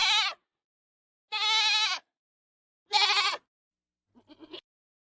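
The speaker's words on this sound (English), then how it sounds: "Goat." Goat bleats three times in loud, wavering calls separated by short pauses, followed by a fainter, broken bleat at the end.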